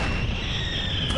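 Cannon fire aboard an airship in the Air Buccaneers video game, a dense, continuous booming roar with sustained low rumble and broadband blast noise filling the short stretch at steady loudness.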